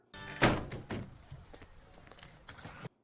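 A car door swings into a neighbouring parked car with a sharp thunk near the start, followed by a few softer knocks and rustles in the game Minor Details.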